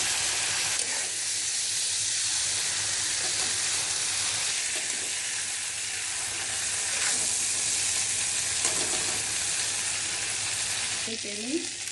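Jackfruit seeds sizzle steadily in hot oil left over from frying shrimp for a Bengali prawn curry, a dense continuous crackle with occasional stirring scrapes, close and unbroken for the whole stretch.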